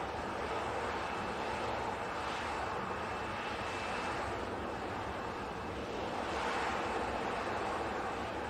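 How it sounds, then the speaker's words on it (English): A fixed-wing airliner approaching to land at an airport, its engine roar steady and broad, swelling slightly as it draws nearer, with no talk over it. "the number 2 tracked aircraft is just about to land as well"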